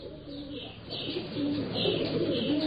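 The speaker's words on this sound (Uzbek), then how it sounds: "Bir to'p kaptarlar yenimizga kelib qo'ndi. Ondan o'zaro gugulashdi." A flock of pigeons coos softly after landing nearby, giving low, murmuring calls that sit faintly under a steady hiss of background noise.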